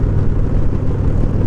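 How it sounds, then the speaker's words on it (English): Wind gusts outdoors on an unseasonably warm January day, buffeting the microphone with a steady, heavy low rumble that never lets up across the short stretch. "Wind is certainly picking up."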